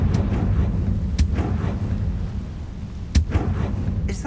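In Hogwarts Legacy, the Confringo spell bursts as a pair of sharp booming blasts over a low rumbling game backdrop, with a few softer impacts between them.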